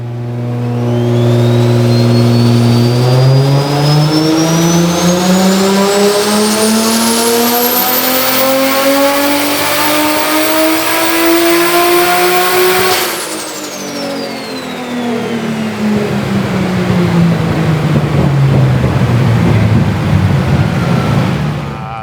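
Nissan R33 GTR running E85 at around 20 psi of boost revs hard on a dyno, its tone climbing steadily, dropping briefly, then rising again, loud and close with a whining high harmonic over the engine roar.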